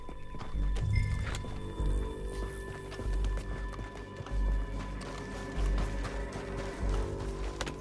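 Horse hooves galloping in Red Dead Redemption 2, a steady run of heavy, close thuds with regular beats and a brief whinny near the start, set over an ambient game soundscape.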